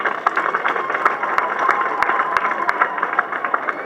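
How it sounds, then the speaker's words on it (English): Audience applause for parents at a Buganda Royal Institute graduation ceremony, a sustained patter of many hands clapping at moderate distance, with scattered sharper individual claps standing out. "I request them to join me and we clap our parents again"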